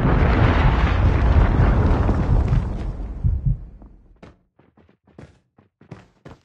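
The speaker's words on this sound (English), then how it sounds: "Predator missile inbound." Predator missile strike in Call of Duty multiplayer: a loud, roaring explosion rumbles for about three seconds, then fades into scattered thuds and debris impacts.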